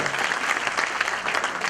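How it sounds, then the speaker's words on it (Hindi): Audience applause at a mushaira poetry recital, a dense, steady wash of many hands clapping throughout, fairly loud and close, with no break. "दोस्तों इस्तकबाल करें, तालियां बजाएं"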